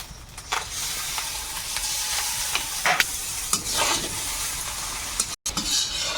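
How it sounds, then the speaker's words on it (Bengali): Sauce poured along the side of a hot wok with egg prawn fried rice, a loud sizzle with sharp hissing bursts and stirring scrapes, with a brief cut near the end. "একটু সসটা দেবো তো ডাইরেক্ট ভাতে দেবো না একটু কড়াইয়ের গা ধরে দেবো"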